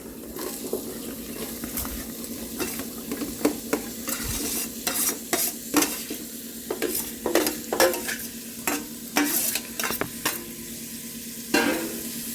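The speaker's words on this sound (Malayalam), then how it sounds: "അപ്പം ഞാൻ ഇതിനകത്തോട്ട് ഇനി ചെറിയ ഉള്ളിയും ഒരു 4 പച്ചമുളകും കൂടെ ഇതിനകത്തോട്ട് ആഡ് ചെയ്യുക." Shallots and four green chillies frying in a pan for ghee rice and chicken curry, stirred with a spoon that scrapes and clatters in repeated strokes over a constant close sizzle.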